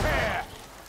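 Rain falls steadily in Warhammer Vermintide, a loud wash of drops on hard surfaces that drops to a quieter patter after a moment, with a brief voice mixed in at the start.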